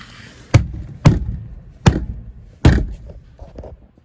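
Someone bangs on the heater blower motor of a Nissan NV200 van, four loud hollow thumps spaced unevenly, each ringing briefly, then fainter rattling, no speech.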